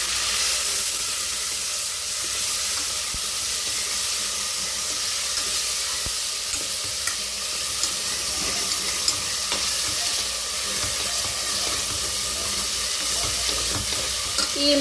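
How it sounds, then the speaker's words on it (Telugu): Ginger, shallots, green chilies and onion paste frying in hot oil while being stirred for a mutton curry, a loud, steady, hissing sizzle that runs unbroken and close. "ఆయిల్ అయితే వేడైంది, వేసుకున్నాం. మొత్తం ఇంకా ఒకసారి కలిపేసుకుంటాం."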